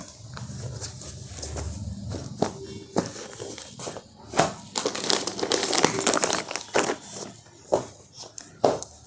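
Packed silk saree being unfolded from its wrapping, close rustling and crinkling of plastic and cloth with irregular sharper crackles throughout.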